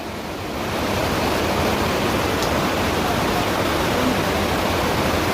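Floodwater from a landslide-driven flash flood in Wayanad rushes past a school, a loud, steady broadband roar of churning water that swells in over the first second and then holds constant throughout.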